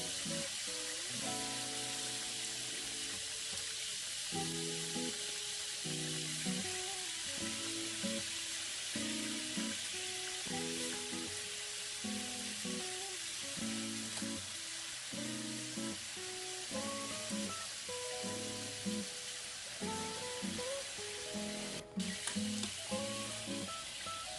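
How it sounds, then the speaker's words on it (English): Meat slices marinated in sauce lightly browning in a pan give a steady, even sizzle that runs throughout, set under rhythmic background music. "we just slightly brown or slightly fry all of the meats"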